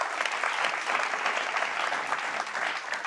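An audience claps together at a talk show, dense sustained applause that holds at an even level from start to finish.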